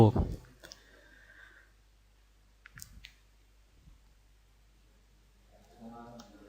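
A computer mouse button gives a few faint, sharp clicks in a quiet room, and a voice is heard briefly at the start and end.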